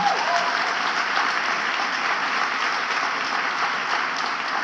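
Steady, dense audience applause from a large crowd at a speech, loud and continuous throughout with no pauses, a full roomful of hands clapping at once.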